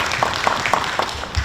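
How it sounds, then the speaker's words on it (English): Short burst of audience applause for a keynote speaker at a talk, a few fairly close claps in an irregular rhythm over a room murmur. "Let's give him one more round of applause."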